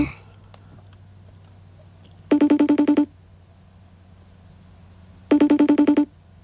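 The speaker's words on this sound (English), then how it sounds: "Come on, Keisha, answer the phone." Phone ringing on an outgoing call, two bursts of a rapid buzzing ring tone with a pause between, heard close over a low steady hum.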